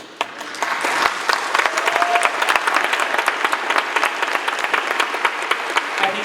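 Graduating students at a 2022 Forte Prep Academy graduation ceremony stand and applaud their families, a dense, steady wash of clapping from a large crowd that holds loud and continuous throughout.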